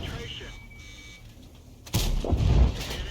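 An AMX 30 B tank cannon fires in World of Tanks, a single sharp boom followed by rumbling echo, heard amid game sounds and a talking voice.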